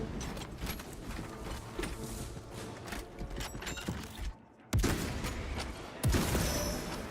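Gunfire volleys and an exploding frag grenade in the Space Marine 2 video game, a dense, continuous stream of shots and mechanical clatter broken by two sharp loud blasts near the end.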